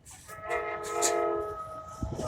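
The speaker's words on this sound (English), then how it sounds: "here's one of the trains right over there" An Amtrak train rumbles past nearby along a track work site with steady tonal whine and hum, swelling in the middle then easing, a few clanks near the end.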